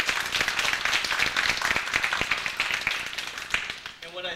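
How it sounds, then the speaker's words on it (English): Audience applause at a school committee meeting: a steady burst of many hands clapping with a few louder claps, thinning out and giving way to a voice at the end. "So I'd like to give him a nice round of applause for that."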